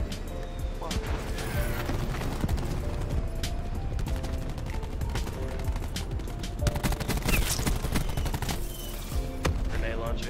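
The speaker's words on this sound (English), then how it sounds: "Grenade launcher." Grenade launcher fire and explosions in Call of Duty Black Ops 4, with dense bursts of shots, mechanical clatter and crashing impacts throughout, while a player talks over the action.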